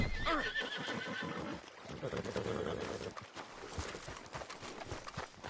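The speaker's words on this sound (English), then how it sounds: "Meet the horse." A horse in the Red Dead Redemption 2 video game gives a loud, close whinny at the start, then its hooves clop steadily beneath a dense layer of game sound that may include voices.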